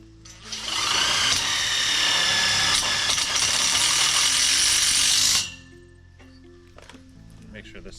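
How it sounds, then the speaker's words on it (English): A power drill drives screws into the framing around a greenhouse exhaust fan, one sustained high-pitched whirring burst of about five seconds up close, then stopping, followed by quieter clicks and handling noises. "Finish out the rest of those screws."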